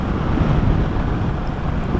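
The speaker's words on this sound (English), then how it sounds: "it's crazy how bad the wind is here" Heavy gusting wind roars constantly against a microphone on open, flat coastal land in Delaware, a loud low-frequency buffeting with no voices.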